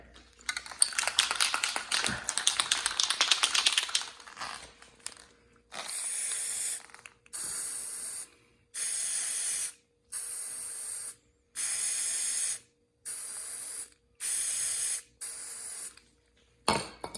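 An Xbox controller is spray painted in preparation for a red and black hydro dip, first one long hiss, then about eight evenly spaced short bursts of spray, close and fairly loud, with no talking.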